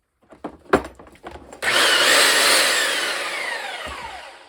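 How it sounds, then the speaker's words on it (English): A 13-amp 1/2-inch right angle drill spins up at low speed and grinds steadily into lumber, preceded by a few short clicks and knocks, the whirring loud and close and slowly fading. "So I do have it on low speed."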